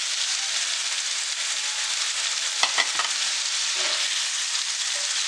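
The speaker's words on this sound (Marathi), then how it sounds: "छान परतून घेऊया. त्याच्यानंतर त्याच्यामध्ये टोमॅटो आणि कांदा" Tomato and onion are sautéed with potatoes and peas over medium heat for a Maharashtrian mattar batata bhaji, giving a steady, close sizzle and hiss with a few brief stirring scrapes partway through.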